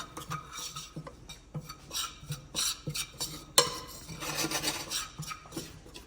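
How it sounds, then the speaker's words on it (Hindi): Gram flour (besan) being stirred as it cooks in a pan for kachori filling, with irregular scraping and clinking of a spoon against metal, fairly quiet and close, no talking. "बेसन को पका लेता हूँ अच्छे से मैं"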